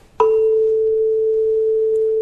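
A struck tuning fork mounted on a quarter-wave resonance box gives a sharp strike, then a single pure, steady tone that rings loud and unchanging for about two seconds, with no talk.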